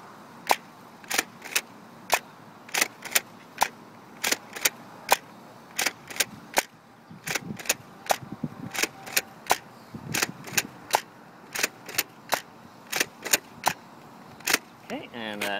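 Nerf blaster firing classic Streamline foam darts one at a time, a string of sharp, evenly spaced snapping shots close by with a faint mechanical rattle between them and some quiet talk.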